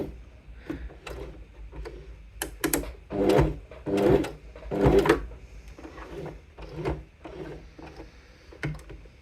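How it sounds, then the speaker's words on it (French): Sewing machine stitching back and forth over the start of a seam on fabric for a convertible shoulder bag: short bursts of rapid mechanical clatter separated by pauses, close and moderately loud. "on va faire quelques points d'arrêt en repassant sur la couture du début"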